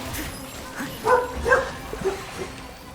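A dog in the video game Genshin Impact gives a few short, yippy barks and whimpers over game sound, with some faint talking in the background.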